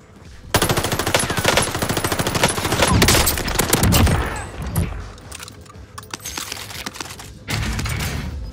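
Automatic weapon fire in the video game Call of Duty Warzone Pacific, long loud bursts of rapid shots with brief pauses between them, close and dominant with no talk.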